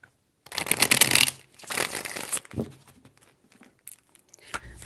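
Several bursts of tarot cards being riffled and shuffled, crisp and close, with short pauses between them and no talking.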